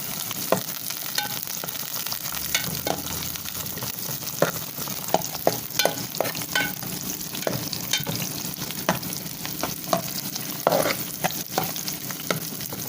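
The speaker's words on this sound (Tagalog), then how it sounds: "lutoyin ko lang yung sibuyas guys" Onions sautéing in a hot pan for a squash and beef dish, a dense continuous sizzle broken by frequent scraping and clinking stirs, close up and with no one speaking.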